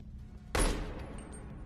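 Gunfire in the BONELAB VR game, a single sudden sharp blast that rings out and decays over a low steady background hum.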